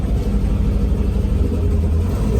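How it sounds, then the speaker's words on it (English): Carbon Cab vehicle driving after a shifter swap, a steady low engine rumble and road noise close up throughout, with no talking. "we're gonna take a little driving to see how the shifter works"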